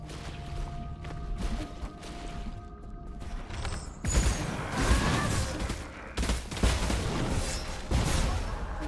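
Explosions and combat in the action game Nine Sols: a fairly quiet, busy stretch gives way to a loud burst near the middle, followed by dense crashing impacts and clattering mechanisms that continue to the end.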